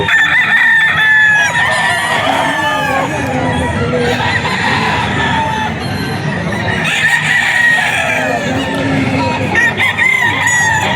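Pumpkin hatch gamefowl roosters crow at the Bocaue market in loud, overlapping calls, mixed with clucking from other fowl. The crowing carries on almost without pause throughout.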